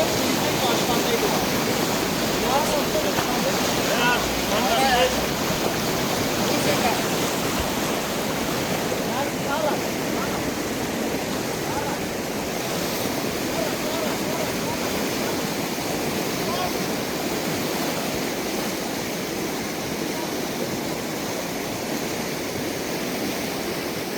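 Pambak River in Lori region, Armenia, rushing in a loud, steady roar of turbulent water that stays constant and near throughout, with no clear breaks.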